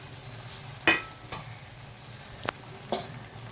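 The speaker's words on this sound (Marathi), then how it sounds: "आणि ते फ्राय करूया." Soybeans frying in a pan for a traditional spicy rassa curry, giving a quiet, constant sizzle broken by a few sharp scrapes of a spoon against the pan.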